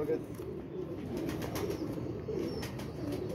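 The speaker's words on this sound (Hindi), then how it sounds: "ये जी माशाल्लाह पहला कबूतर आ गया जी" Breeder pigeons coo softly in repeated low, rolling phrases, close by, while someone talks over them.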